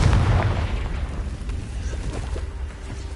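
Spell explosions from Bombarda and Confringo in Hogwarts Legacy thud and rumble as a dense, continuous wash of booms, loudest at the start and fading slightly after.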